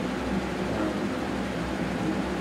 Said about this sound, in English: That noise you hear is the fan.